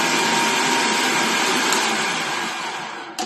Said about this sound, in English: I cut me 4 green peppers up, and I put them in my processor, and I'm going to grind them up